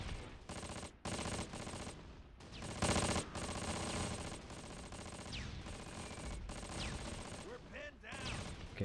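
Rapid machine-gun and rifle fire from a Close Combat battle rattles on continuously in loud bursts, with brief gaps between volleys and a voice talking over parts of it.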